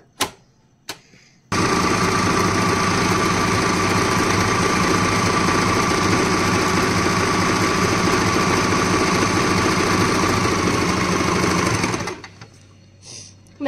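An Usha Janome sewing machine stitches steadily for about ten seconds, a loud continuous mechanical whir with fast needle rattle, bracketed by brief clicks and quiet at the start and end.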